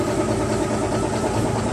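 A noisy straight-six diesel engine on an SDLG wheel loader runs steadily at idle, a loud, close, dense rumble with a rough, uneven knocking texture throughout.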